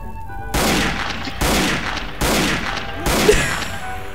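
Four separate bursts of loud gunfire from a shooter video game, each a dense crackling volley lasting under a second and spaced evenly apart, with no voices over them.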